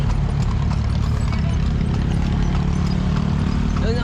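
Horse hooves clip-clop steadily beside a tartanilla horse carriage in Cebu, a continuous close rhythm over loud road and engine rumble, with faint voices mixed in.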